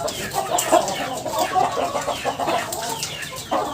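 Plump chickens cluck steadily in a farm setting, several birds close by making repeated overlapping clucks.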